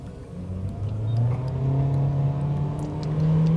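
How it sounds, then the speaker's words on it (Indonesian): An MG 5 GT accelerates hard from a standstill in a 0-100 km/h run, its engine droning and rising steadily in pitch, heard loud from inside the cabin with no talk. "Jadi kalau misalnya kita mau ngetes kondisi dari 0 ke 100 gitu ya, tinggal pencet aja sekali terus kita gas."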